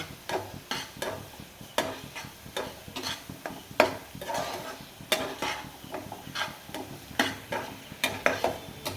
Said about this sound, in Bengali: ভালো করে আবার আমি নেড়ে চেড়ে নেবো।